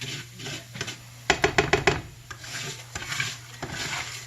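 Mexican rice browning in a pan, stirred with a utensil: quiet scraping and rubbing strokes with a quick run of clinking scrapes against the pan, over a faint steady sizzle.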